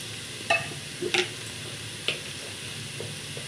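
Mushrooms, washed in turmeric water, are added to a hot pan and fry, a soft steady sizzle with a few clattering stirs and utensil knocks.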